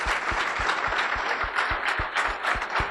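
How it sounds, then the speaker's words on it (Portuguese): Steady audience applause at a tech event interview, a dense continuous patter of many hands with a regular low thumping pulse underneath, moderately loud and without talk over it. "Uma salva de palmas pro cara."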